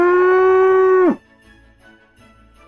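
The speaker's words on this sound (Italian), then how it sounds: "ma cos'è questo verso strano? Oh, cavoli, la mucca sta per partorire." Cow about to give birth during a snowstorm, letting out one loud, sustained moo lasting about a second that cuts off abruptly, followed by quiet.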